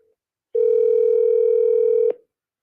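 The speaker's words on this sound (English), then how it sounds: "At the tone, please record your message." A single voicemail recording tone, one steady electronic beep lasting about a second and a half, sounds clearly against silence before a message is left.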